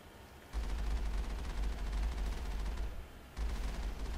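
Sustained gunfire at an armature in Mass Effect, a dense rapid stream of shots with a short pause before the firing resumes, loud and without talk.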